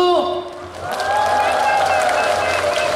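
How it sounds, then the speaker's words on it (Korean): A tone fades out, then a large crowd at the opening performance of the Sunchang Jang Festival in Korea bursts into cheering and sustained applause, loud and continuous to the end. "함성과 박수!"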